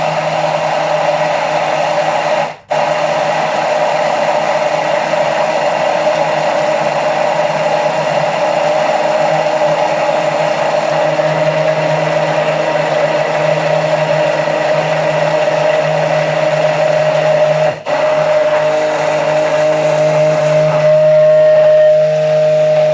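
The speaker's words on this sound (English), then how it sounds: "you put your hand blender right to the bottom and keep it there, okay? And switch it on and just run it" A hand blender held at the bottom of a jar whirs steadily as eggs and oil turn into mayonnaise, a loud constant motor hum with two brief cut-outs before the pitch shifts slightly near the end.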